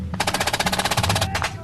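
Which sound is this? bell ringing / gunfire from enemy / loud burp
gunfire from enemy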